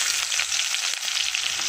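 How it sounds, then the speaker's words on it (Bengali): Chopped onion frying in hot oil with bay leaf and cumin for a lentil and cabbage dish, a steady close sizzle with faint stirring, no voices. "পেঁয়াজটাকে ভেজে নেব।"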